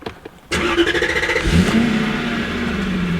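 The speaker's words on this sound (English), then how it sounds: "Let's go ahead and crank it up because I had the battery on for a while." A Lexus SC400 engine cranks briefly and then catches, settling into a loud, steady running drone close by.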